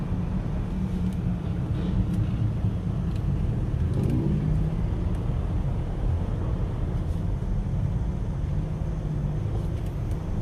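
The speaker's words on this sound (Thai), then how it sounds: "แอดขับปาเจโร่ครับ รถแม่ครับ" A Mitsubishi Pajero drives through Bang Saen, heard as a continuous low engine rumble and road noise from inside the cabin, steady and fairly loud the whole time.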